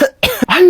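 A person coughs several times in quick succession, loud and close, with short harsh bursts and a throat-clearing quality between them.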